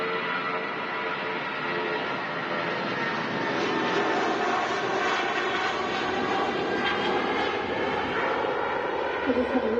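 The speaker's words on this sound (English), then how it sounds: "Wow, early rotation there from the aircraft" A British Airways shuttle jet taking off from Manchester Airport, its engines roaring steadily and loud throughout as it climbs away.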